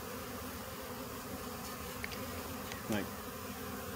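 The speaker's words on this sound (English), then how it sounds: "That one's just got her wings going, and she's saying this is where the queen is." Honeybees fanning their wings at a swarm box, giving a steady, close insect drone that stays even throughout, with one brief louder buzz as a bee passes near.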